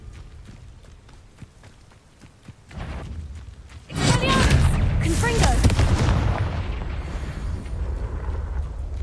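A Confringo fire spell is cast in Hogwarts Legacy, erupting into a loud, sustained booming blast after a quieter stretch of ambient sound, with crackling debris trailing off for several seconds. A voice speaks briefly.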